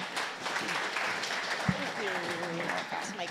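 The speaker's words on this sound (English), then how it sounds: "Please give an applause for Eugenia." An audience at a business summit breaks into a round of moderate applause that carries steadily through, with voices heard over the clapping.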